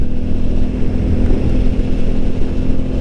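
Brand new 2023 Royal Enfield Meteor 350 motorcycle with low mileage at cruising speed, a steady low engine drone with rumbling exhaust pulses mixed with wind noise, loud and continuous.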